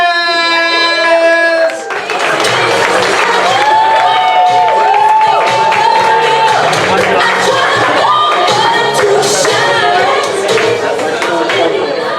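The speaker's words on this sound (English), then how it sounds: "put your hands together for Andre Rodriguez!" A comedy club crowd at Savannah Comedy Underground bursts into loud, sustained clapping and cheering for a comedian taking the stage, with whoops and shouts rising over the roar after a brief musical sting.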